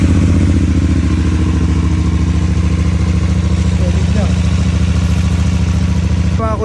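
CLX700 motorcycle engine after a valve repair, running steadily at idle with an even mechanical chug and light clatter, close and loud, a voice speaking over it.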